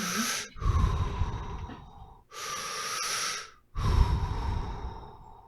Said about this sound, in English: that calming feeling, as I recall now, was me breathing excessively